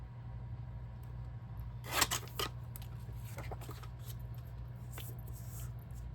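A personal paper trimmer slices through a photo, giving a brief crisp cutting burst near the middle with a few smaller scraping strokes after it, close and fairly soft over a steady low hum.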